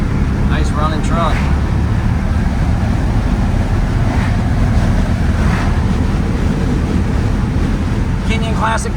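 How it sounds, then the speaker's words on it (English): Steady low idle of a restored 1986 Ford F-150 4x4 pickup with a 302 V8 and automatic, rumbling close by under brief bits of male speech and some wind buffeting on the microphone. "Nice running truck."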